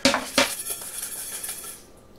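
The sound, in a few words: cookie dough shaken around in a bowl of colored sugar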